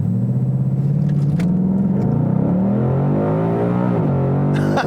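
A 2018 Ford Mustang GT V8 with traction control off launches hard and accelerates, its loud, close engine note rising and shifting through several pitch changes with steady deep rumble throughout.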